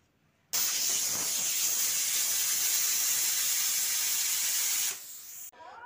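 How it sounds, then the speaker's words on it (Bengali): A pressure cooker holding cabbage, potatoes and tomatoes lets off a loud, steady rush of steam with a whistling edge for about four seconds, then cuts off abruptly to a faint background. "এবার প্রেসার কুকারে ঢাকনাটা বন্ধ করে 2 থেকে 3টে সিটি দিয়ে নেব।"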